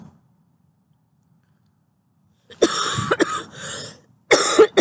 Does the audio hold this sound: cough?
yes